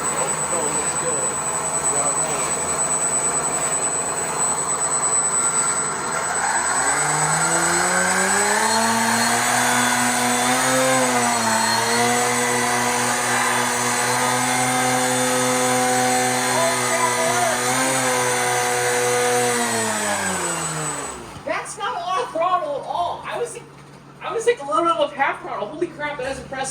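Electric motors of a model VTOL concept fighter spin up and hold a loud, steady whine with shifting pitch as the craft flies, then cut off abruptly near the end, followed by brief close talk and handling noise.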